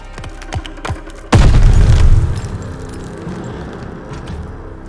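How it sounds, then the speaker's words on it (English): A grenade detonates in the Call of Duty Vanguard video game: a single loud, close blast breaks a quieter stretch and then fades into a rumbling, settling decay. "Grenade! Get down!"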